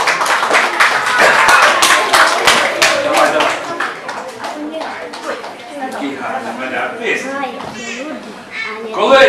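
An audience at a children's storytelling show claps for a volunteer named Oleg, with sharp, distinct hand claps that are loud at first and thin out into scattered taps while voices talk over them.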